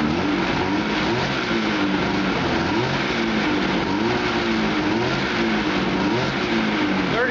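Snowmobile engine with a newly installed clutch kit revving steadily and loudly indoors, its pitch wavering up and down as the RPM climbs toward clutch engagement, running alone without talk.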